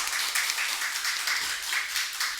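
Congregation applause in a church, a steady wash of many hands clapping together throughout, moderately loud and continuous with no voices over it.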